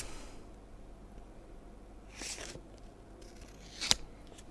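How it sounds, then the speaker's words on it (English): Scissors cutting a sheet of paper into two halves, a soft brief snip followed by a sharper close cut near the end, quiet with no talking. "I have cut this paper into 2 halves."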